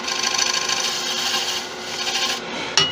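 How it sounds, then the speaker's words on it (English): A carbide tool makes a slow pull cut across a colour-shift resin bowl spinning on a lathe, a steady close scraping rasp that eases off near the end, followed by a brief knock. "If you're having problems with a push cut on resin, just a pull cut can sometimes do it better."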